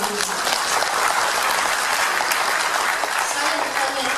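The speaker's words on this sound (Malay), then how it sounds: "satu tepukan gemuruh bagi cawangan ini" Thunderous applause from a crowd at a political party gathering, a dense continuous wash of clapping that stays steady and loud throughout with no pauses.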